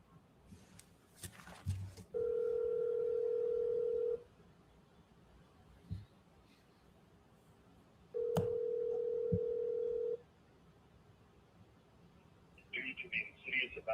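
Phone call ringback tones, two long steady buzzing rings separated by a pause, with a few clicks and faint background noise around them and a brief chirp at the end.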